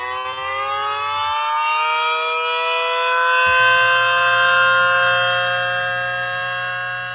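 A small 3D-printed mini Banshee 912 port siren spins up, its loud wailing tone rising steadily and holding near its top pitch, with a low motor hum beneath.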